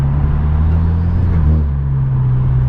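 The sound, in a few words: Kia car accelerating with methanol tune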